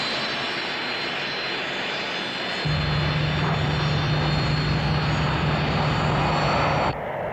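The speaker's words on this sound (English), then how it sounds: "we have diverted these fighters and they are about to overfly the outskirts of this airfield" Fighter aircraft overfly an airfield with a broad, steady engine roar that swells into a louder sustained drone before cutting off abruptly, with no voices.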